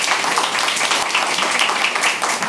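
A dense wash of clapping from an audience at a Japanese temple festival event welcoming a guest, steady and loud throughout with no voices on top.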